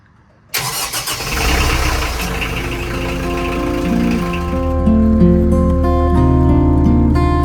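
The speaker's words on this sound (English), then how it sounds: "Just going to do a few engine checks and fire up the engine." A 57-foot narrowboat's engine starts abruptly with a loud catch and settles into a steady, throbbing idle with strong low rumble, rising slightly in level near the end, heard close and alone.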